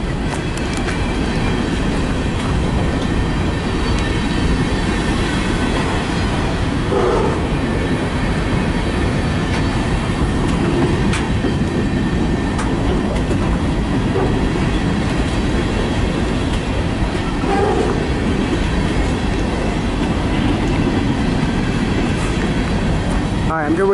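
BNSF westbound freight train passing close by in Fostoria, Ohio, a loud continuous rolling rumble with rhythmic clickety-clack of wheels and occasional squeals throughout.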